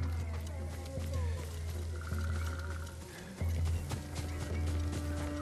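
Rhythmic hoof clip-clop of a galloping horse in Ghost of Tsushima's Iki Island DLC, under steady music and game ambience, moderately loud throughout.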